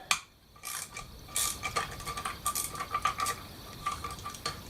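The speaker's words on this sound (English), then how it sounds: "10mm socket. Take these two out." Quiet, close metallic clicking and clinking from a ratchet with a 10mm socket working the cylinder head bolts on a Honda CRF250L, in irregular bursts of short ticks with brief pauses and no talking.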